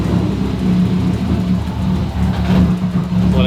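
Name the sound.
Subaru WRX STI engine running after a fuel-pressure purge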